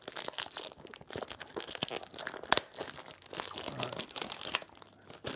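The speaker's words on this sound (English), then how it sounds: "So I'm gonna rip into this." A sealed fragrance box, a bottle of Tonka Hysteria, being torn open, with close, loud crinkling and crumpling of packaging and paper that continues steadily, plus one sharp rip partway through.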